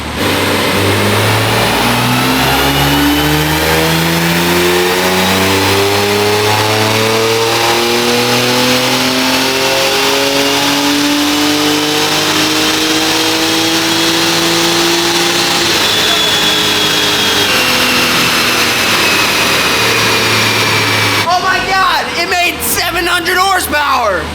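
BMW G87 M2 engine revving hard on a dynamometer run, climbing steadily through the gears for about twenty seconds at loud, close range before a sharp lift-off with crackles at the end.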